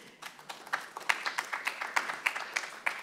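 Scattered audience clapping at a women's athletics award ceremony, a dozen or so sharp claps in uneven rhythm, moderately faint and without speech.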